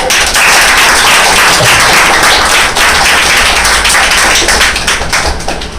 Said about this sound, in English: So please give a big round of applause for yourself.